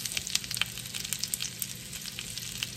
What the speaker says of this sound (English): we're browning and softening the pears